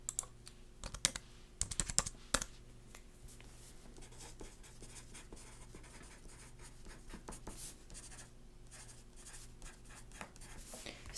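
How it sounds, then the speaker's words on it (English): A pen scratches across paper at a receptionist's desk in quiet, close strokes, with a few louder taps early on and a soft steady rustle throughout. "So I'll just be taking some notes here on this paper"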